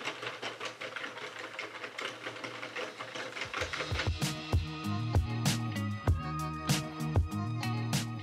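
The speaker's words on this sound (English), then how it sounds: "So now you just knit with the two yarns feeding into the machine." A Sentro plastic circular knitting machine cranks steadily while knitting with two yarns, giving a continuous rattling, clicking mechanical hum that becomes louder and more rhythmic partway through, with no talking.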